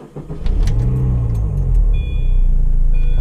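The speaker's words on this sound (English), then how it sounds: "It's been so long since I've heard this car start up." A supercharged MINI Cooper R53 fires up after a shop visit: a brief starter crank, then the engine catches into a loud, close rumbling idle that holds steady, with a faint high electrical whine near the end.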